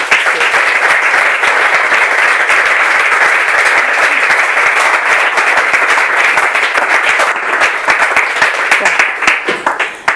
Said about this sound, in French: je veux quand même qu'on l'applaudisse aussi, s'il vous plaît